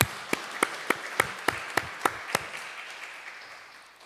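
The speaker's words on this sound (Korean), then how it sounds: "하나님께 영광의 박수를 올려드리겠습니다" A church congregation claps in steady rhythm during a Sunday worship service, eight or nine distinct beats at a regular pace, then the sound fades away into room noise.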